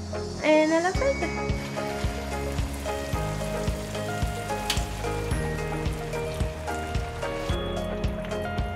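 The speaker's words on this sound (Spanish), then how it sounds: "la vamos a poner en el aceite" Bean-filled gordita frying in hot oil, a steady crackling sizzle running throughout over a background of music with a regular beat, with a voice speaking briefly near the start.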